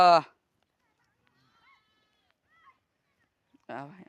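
A sheep gives a loud, close bleat at the start on a farm, then after near silence a second bleat follows near the end, with faint chirps in between.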